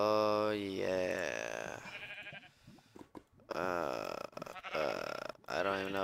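Sheep bleating in the Minecraft Tekkit Legends modpack, a few short, repeated game-animal calls mixed with other game sound effects, fairly loud and close.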